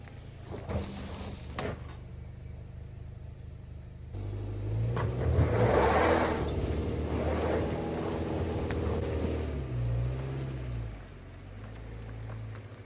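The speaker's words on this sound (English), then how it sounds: "the other three wheels take over and carry the vehicle out of the ditch, moving it forward" A Subaru using X-MODE drives out of a ditch, its engine rumbling and revving under load for several seconds before easing off, heard from nearby without any talking.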